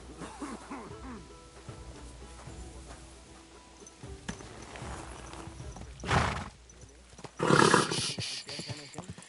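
A horse in a video game gives two loud neighs near the end, the second longer and more strident, after a stretch of quieter ambient sounds and soft clopping.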